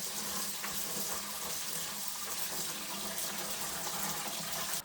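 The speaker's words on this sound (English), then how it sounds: "So we're gonna wash those again the same way." Running tap water pours steadily into a sink while home-grown, unsprayed green beans are washed for pressure canning, a continuous close splashing gush with no talking.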